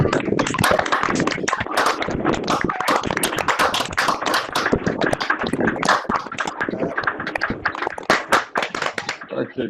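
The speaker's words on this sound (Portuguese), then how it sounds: "dessemos uma salva de palmas para a professora Vera" Online webinar participants applaud a professor after unmuting their microphones, producing dense, continuous clapping from many hands over laptop audio, steady and fairly loud throughout with no speech.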